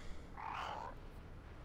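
Frog pet croaking during a World of Warcraft PvP pet battle, a single mid-pitched croak lasting under a second over a low game background, fairly faint.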